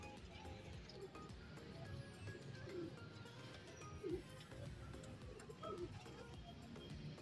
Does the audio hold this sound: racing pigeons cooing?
yes